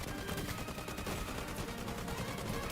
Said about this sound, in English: When I'm firing a gun, I'm enveloped in it.